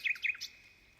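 Birds chirp outdoors along a sculpture walk, three quick, bright tweets in the first half second, fairly faint and slightly distant, with quiet background after.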